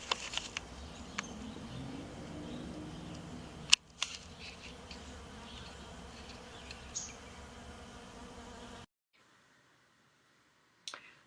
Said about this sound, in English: a little clip, and I'm going to put it in right here, right now, of bees at our hummingbird feeder